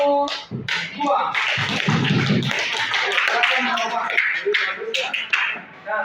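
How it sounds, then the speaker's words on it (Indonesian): A school class claps for a student group after their presentation, with scattered uneven claps mixed with children's chatter and a teacher's voice throughout. "Orang yang saling tepuk tangan untuk kelompok 2."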